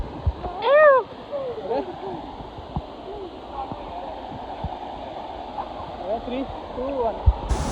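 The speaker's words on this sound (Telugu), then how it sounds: "వెనకాలే వాటర్ ఫాల్స్ ఉంది." Kote Abbe waterfall in Coorg gives off a constant broadband rush of falling water in the background, while voices talk and call out over it.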